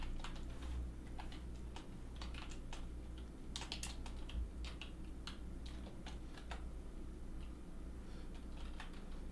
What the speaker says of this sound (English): I'll just type it up here.